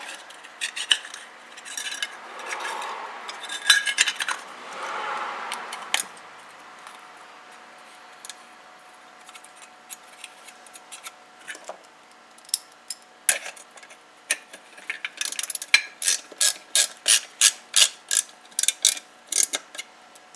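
Small screws being threaded in and tightened on a 3hp Briggs engine during an electronic ignition install, with scattered light metallic handling clicks, then a rapid regular series of sharp ratchet clicks near the end.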